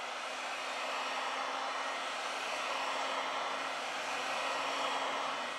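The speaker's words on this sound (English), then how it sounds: "With the help of a heat gun, we apply 90 Celsius degrees during 4 minutes." A heat gun blows a steady, loud whoosh of hot air onto a Huawei P10 phone screen at 90 degrees Celsius, loosening it for replacement. The airflow sounds constant and close, with no pauses and no voices.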